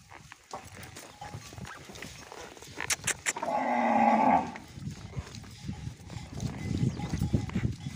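A cow on a farm lets out a loud, drawn-out moo in the middle of the scene, surrounded by rustling, handling noises and scattered background sounds before and after.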